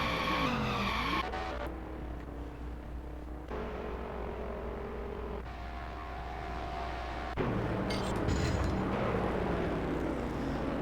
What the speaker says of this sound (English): Bobby Gordon just looped it.